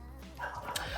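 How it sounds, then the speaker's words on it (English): Dogs in a room give a short, quiet yip and whimper, brief and somewhat distant. "excuse the dogs"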